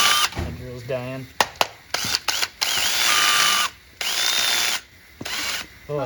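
A dying cordless drill runs in short bursts, starting and stopping repeatedly, close and loud, with someone speaking briefly at the start.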